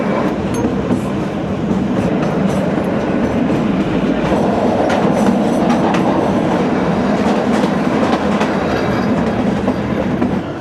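The Kalka–Shimla toy train rolls along its narrow-gauge rails with a continuous loud rumble and rhythmic clickety-clack from inside a coach, steady throughout without talk.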